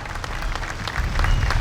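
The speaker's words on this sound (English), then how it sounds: "How about a nice round of applause for all of them?" A crowd applauds first responders at a September 11 anniversary memorial ride, steady clapping that swells louder toward the end of the short burst, with no talking over it.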